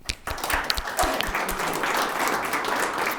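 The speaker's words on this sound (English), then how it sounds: "I would like to give them some applause" An audience at a pilot program graduation ceremony applauds the campus chefs, a few sharp claps swelling quickly into sustained, fairly close applause.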